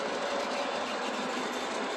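An O gauge TMCC-controlled model train runs on a home layout hauling a long consist, a steady close rumbling whir with faint clicking from the track, alone and unbroken.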